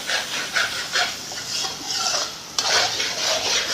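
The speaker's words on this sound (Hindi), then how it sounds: "और अब हम करेंगे इसको मिक्स इस तरीके से" Spatula stirring masala fried eggs in a pan, repeated scraping and stirring strokes with a light sizzle underneath, close and fairly loud, without talking.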